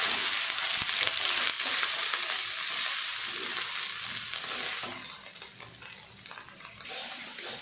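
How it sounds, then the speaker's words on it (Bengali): Dal frying in a pan with green chili and ginger paste hisses in a steady sizzle, with scraping stirs and light clinks against the pan, continuous and close throughout. "এটা এবার সুন্দর করে নেড়ে নেড়ে ভাজা করে নেব।"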